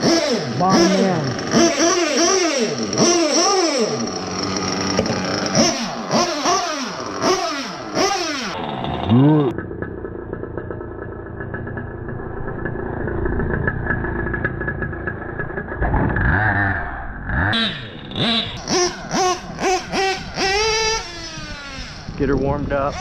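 A modified Novarossi Virtus nitro engine is revved in repeated rising and falling bursts, then settles to a steady buzzing run. It picks up sharp blips again near the end, loud and close.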